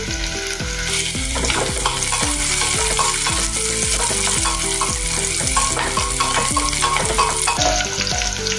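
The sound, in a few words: frying green chillies and onion for veg pulao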